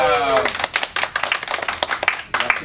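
Brief burst of audience clapping for a child, a scattered round of hand claps close by, uneven and fading in and out over a few seconds.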